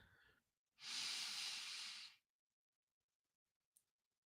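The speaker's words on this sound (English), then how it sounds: "Breathe in," A single deep inhaled breath, close and clear, lasting over a second in a quiet room, followed by silence and a faint click.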